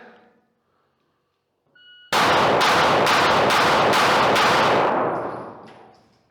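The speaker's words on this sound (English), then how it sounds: "We're going to have the same string of fire, which is going to be 6 shots" Six rifle shots from a rifle without an aftermarket takedown lever ring out at an outdoor range, loud and close, the first two spaced and the rest quicker, with echoing tails after each.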